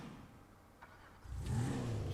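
Car engine revving in GTA 5 Online on PS3, a loud growling rev that swells up after a quieter idle stretch and holds strong toward the end, with no talking.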